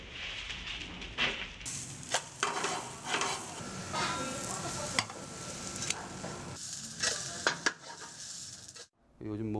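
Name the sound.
buckwheat pancake (maemiljeon) frying in a pan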